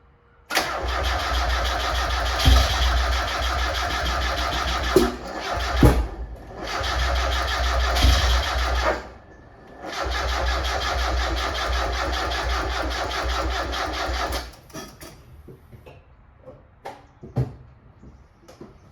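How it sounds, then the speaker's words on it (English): A turbocharged Mazda Miata engine cranks repeatedly, the starter whirring in several long bursts with a loud lifter ticking clatter, then cuts off without starting, leaving quiet clicks and faint knocks. "there's going to be a ton of lifter noise"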